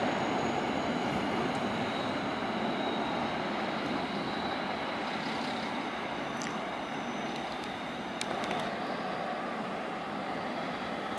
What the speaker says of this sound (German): Da fährt eine S-Bahn aus.